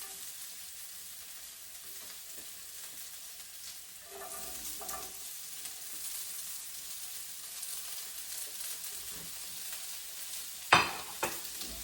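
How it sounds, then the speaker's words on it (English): Garlic and carrot dropped into warm oil in a pan, a steady soft sizzle and frying hiss throughout, with brief stirring clatter and a sharper clack near the end, no talking. "The oil in my pan is warm now, so I'm going to like drop in the garlic and also the carrot just on one side."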